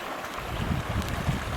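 A snowmelt stream flowing down toward a river near natural hot springs in Colorado, a steady close rush of running water with a broad churning wash and no voices.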